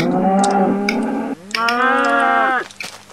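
Cow mooing in the Minecraft video game, two loud, close moos in a row, the second rising then falling in pitch, with no talk over them.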